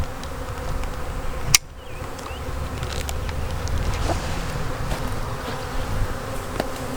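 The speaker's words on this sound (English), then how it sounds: "There we have our hive sitting on our box." Honey bees buzz continuously around a hive sitting on a box, a dense close swarm hum with one sharp knock early on and no talk.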